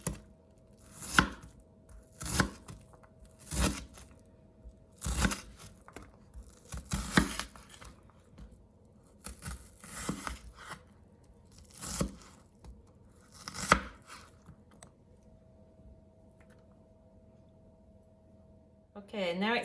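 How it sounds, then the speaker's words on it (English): A knife slices through food on a cutting board while making chilli chicken puffs, about a dozen crisp, separate cuts at an unhurried pace, close by and clear between pauses. "I've made lots of slices in it, so now I'm going to slice it the other way."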